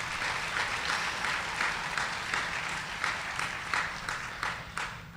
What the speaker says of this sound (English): let me pause here once again to give ourselves a round of applause